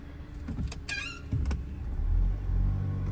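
A 2009 Audi A4 Quattro engine idles steadily after a new clutch throw-out bearing install, a low continuous hum with a brief higher whine and clicks partway through, close by.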